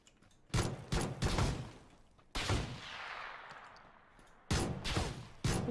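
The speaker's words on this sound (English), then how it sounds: "This guy's got a fucking shotgun." Shotgun blasts in PUBG, with three separate loud, sharp bursts, each followed by a decaying echo. The middle blast carries a long, trailing reverberation.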